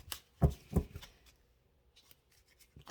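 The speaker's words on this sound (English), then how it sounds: "I love these cards, but they're so awkward to shuffle." Tarot cards being shuffled, stiff new deck, giving a few quick papery riffles and slaps near the start, then quieter rustling and soft handling noises.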